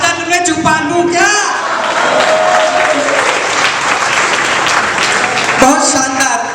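Audience at a Hindi poetry recital (kavi sammelan) claps in a loud, dense, sustained burst of applause lasting about four seconds, with a voice speaking just before and after.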